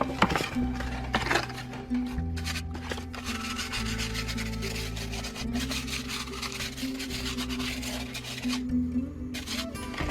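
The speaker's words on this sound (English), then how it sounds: "just using a bit of sanding paper" Continuous rhythmic scratching of sandpaper rubbed back and forth across a board, close up, over a low steady background hum.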